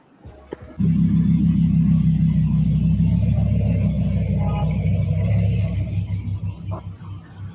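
A convoy of hired cars drives past, a sudden loud rumble of several engines starting after a brief quiet moment and then holding steady before easing slightly toward the end.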